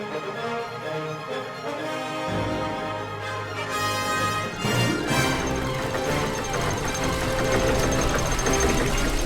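Knocking machine engine in The Book of Unwritten Tales 2 video game, a rhythmic mechanical clatter and chugging that starts after a quiet opening and grows fuller, with layered musical tones over it.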